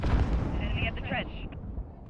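Heavy automatic gunfire rattles through a Call of Duty Modern Warfare battle, dense and loud with booming impacts, while game voices speak over the din.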